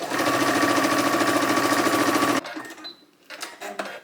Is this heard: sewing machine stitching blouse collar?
yes